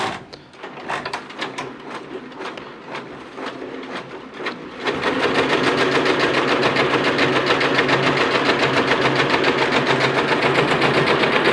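An embroidery machine stitches a logo onto clothing, first with a run of separate sharp clicks, then settling into a loud, steady, fast mechanical whirring chatter that continues without pause.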